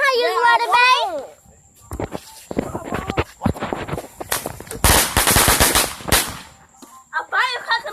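Firecrackers set off by children with a lighter at home, a burst of sharp crackling pops in the middle with excited kids' voices before and after.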